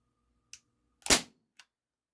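Umarex XCP CO2 air pistol firing 0.13 gram plastic BBs, one sharp close crack between two fainter clicks, in a quiet room.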